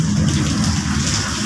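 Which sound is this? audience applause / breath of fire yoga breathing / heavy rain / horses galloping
heavy rain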